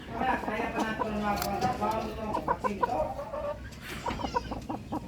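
Brazilian Rapido chickens cluck and squawk close by in a backyard, with repeated calls rising and falling, while a person talks over them.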